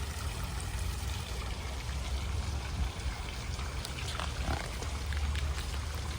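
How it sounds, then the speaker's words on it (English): A small piglet gives a short oink over a steady, hissing wash of background noise, like running or trickling water, with no voices. ""Oink," said the piglet."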